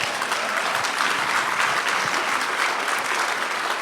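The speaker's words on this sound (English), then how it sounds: "can you give them a round of applause?" Steady, dense clapping from a room full of people at an evening gathering, close and continuous throughout with no talk over it.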